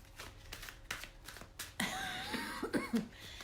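A person with a lingering, persistent cough lets out a few short, dry coughs, followed by a rougher, drawn-out throat-clearing burst, close and fairly loud.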